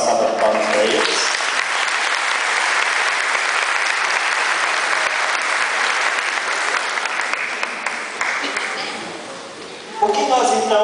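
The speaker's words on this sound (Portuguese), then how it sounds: "vamos dar uma salva de palmas para eles" A church congregation at a Catholic Mass gives the artists a sustained round of applause, dense and steady for about nine seconds before fading as voices resume at the end.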